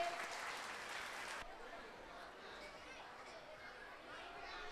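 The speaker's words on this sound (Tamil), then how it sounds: "நல்லா கைத்தட்டல் கொடுக்கலாமே அவங்களுக்கு." An audience at a kids' play school event applauds, a dense burst of clapping that drops off after about a second and a half into softer scattered claps and crowd chatter.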